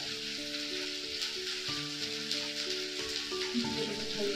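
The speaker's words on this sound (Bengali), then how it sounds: "দেখুন মশলাটা দিয়ে দিয়েছি তেলে" Ground spices, cumin powder among them, sizzle and fry steadily in hot oil in a pan, a continuous close crackling hiss with no talking.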